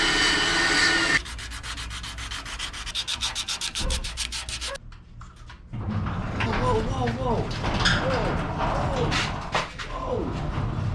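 Sanding on the front end of an Acura TSX (CL9) under restoration, worked down to 180 grit: steady close rasping strokes with a brief pause partway, then rubbing resumes alongside some speech in the background.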